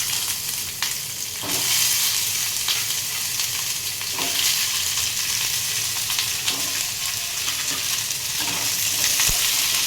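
Onions stirred and fried in oil on a stove for a coconut chutney, a loud, dense sizzle with periodic scraping strokes of a spatula, close and unaccompanied by voices.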